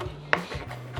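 Raw tomatoes being chopped on a board: a few separate knife strikes, close and fairly crisp, with a sharp one early and quieter thuds after, no talking.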